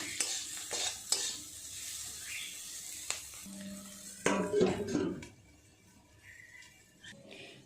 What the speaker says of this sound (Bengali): খুব ভালো করে সমস্ত সবজিগুলো একটু নেড়ে চেড়ে আর একটু ঢাকা দিয়ে ভেজে নেব